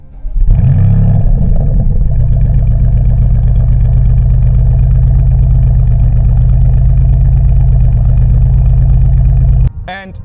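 A 2025 Porsche Cayenne GTS, a 2.2-ton SUV, pulls away with a loud, steady engine drone that holds throughout before cutting off sharply near the end.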